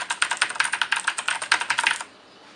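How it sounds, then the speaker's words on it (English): Rapid mechanical key clicks from a Razer BlackWidow keyboard, a dense burst of crisp, close keystrokes for about two seconds, then quiet. "the Blackwidow is a mechanical keyboard"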